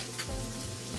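Chopped onions hit a hot pan of rendered andouille sausage fat and sizzle with a steady, close, crackling hiss. The burst is short, with no voices.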